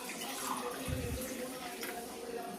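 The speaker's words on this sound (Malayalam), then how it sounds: "ഇനി കുറച്ച് വെള്ളം ഒഴിച്ചിട്ട് ഇതിലോട്ട് എടുത്തു വിടുമ്മ" Water is poured into a mix while making juice at home, a steady splashing wash with voices and household noise around it.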